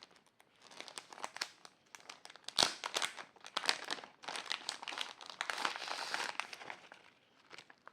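A big lot of stickers and their packaging handled up close, a steady run of crinkling and crackling plastic with sharper rustles and small tears, fairly loud and continuous with no talk.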